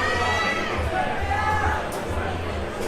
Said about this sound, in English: Parents are cheering.